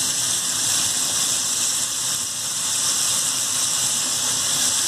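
Turkey breast coated with honey and tomato paste fries in a pan, giving a steady, close, continuous sizzling hiss with no talking.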